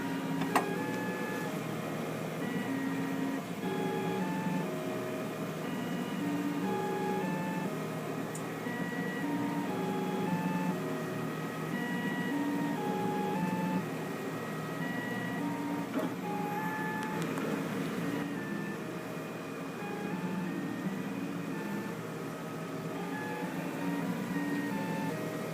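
A printer runs steadily through its print job, emitting a continuous mechanical whir with shifting stepper-motor tones and no voices over it.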